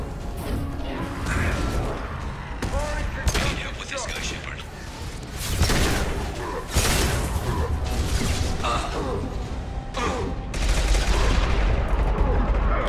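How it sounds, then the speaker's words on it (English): Sniper rifle shots in the video game Mass Effect 2, sharp loud cracks spaced a few seconds apart amid mechanical clatter and battle noise, with someone talking throughout. "This is my other sniper rifle."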